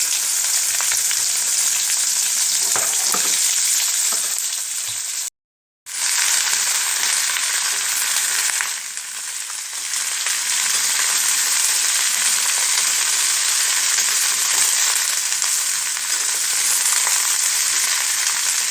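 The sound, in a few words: vegetables frying in oil with five-spice seeds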